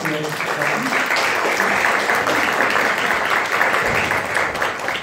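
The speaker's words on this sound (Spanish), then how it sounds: "Otro aplauso" An audience at a professional training session applauds in a dense, sustained wash of clapping that holds steady at full volume throughout.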